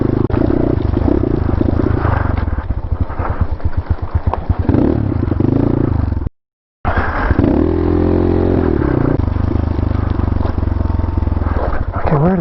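A GPX Moto FSE 250e dirt bike rides on a Payson Canyon trail in second gear, its engine loud and close with a rough buzzing drone and wind buffeting, cut by one brief silent gap near the middle.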